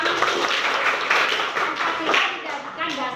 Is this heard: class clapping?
yes